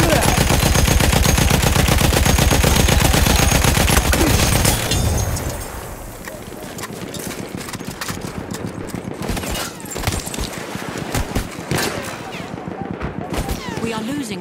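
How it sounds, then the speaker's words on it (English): Machine gun fire in the World War I shooter Battlefield 1, a loud, dense, continuous automatic burst for several seconds, then scattered distant shots, clatter and battle noise with intermittent voices. "Enemy machine gun over there!"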